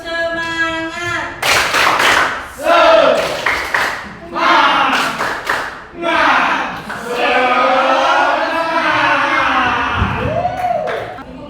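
A school class performs a rhythmic spirit clap chant in an Indonesian classroom, loud bursts of clapping alternating with voices chanting and shouting along in a lively group rhythm.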